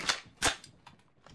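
Gunfire in Apex Legends: two sharp, close shots followed by fainter, quicker pops trailing off, all within a moment and with no talking.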